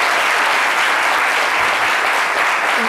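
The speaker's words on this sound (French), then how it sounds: "ça s'applaudit, franchement." Loud, dense applause from an audience on a French-language talk show, a continuous close wash of many hands clapping for a few seconds without voices.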